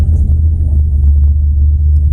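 An old farm truck engine with a sticking choke idles with a loud, deep, steady rumble close by, no talking over it.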